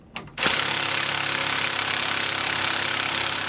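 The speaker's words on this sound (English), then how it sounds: "we're going to tighten those down with a 15/16 socket and wrench" Large bolts through the hangers of a rear anti-sway bar on a 2017 Fleetwood being tightened with a 15/16 socket, a loud continuous rapid rattling hammer of a power impact tool starting after a brief click and running close.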